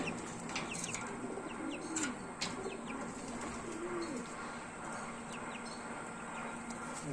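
Pigeons coo softly around a pigeon box, low rolling calls repeating every second or so with a brief flutter of wings and faint chirps against quiet outdoor background.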